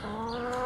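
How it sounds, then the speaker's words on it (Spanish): A hen in a vegetable garden at Bahía San Blas gives a single short, close cluck, a brief nasal call with no voices over it. "Acá están las gallinas que me regalaron."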